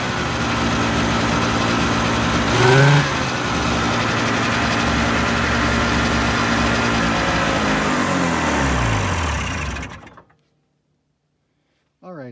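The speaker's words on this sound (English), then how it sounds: "now we'll just have to do our test and see how this clutch reacts to, you know, being run" A dirt bike or small motorcycle engine runs steadily during a clutch engagement test, droning loud and close with a brief rise in pitch early on, then shuts off and falls silent near the end.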